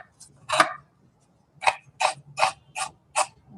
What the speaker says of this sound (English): I'm going to start by shaving the palm sugar.